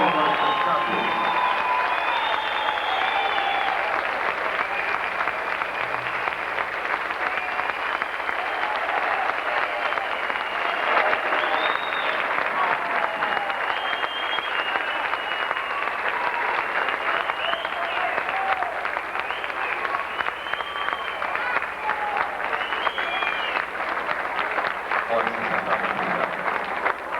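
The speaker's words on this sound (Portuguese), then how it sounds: "convidar todo o público presente e também mesa diretora para se colocarem em pé e aplaudirem esses vitoriosos de 94" Audience at a 1994 FAAP economics graduation ceremony standing and applauding the graduates, a sustained dense clapping from a large crowd that stays steady and full throughout.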